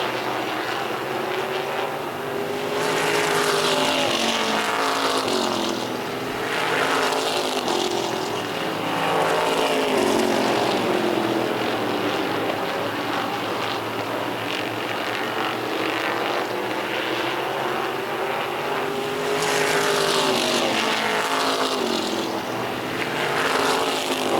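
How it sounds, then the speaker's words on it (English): Race cars battle on an oval track at the Boss Hogg 150. Loud engine roars swell and fade again and again as the cars sweep past, with no speech over them. "Tucker in the 79 trying to hold off Zach Bowie in a 2-car battle"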